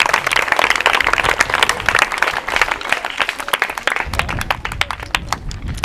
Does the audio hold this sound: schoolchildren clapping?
yes